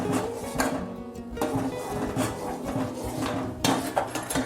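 A spoon scrapes and knocks against a metal pot while a homemade dishwashing soap mixture with baking soda is stirred on the stove, giving repeated rubbing strokes and occasional clinks.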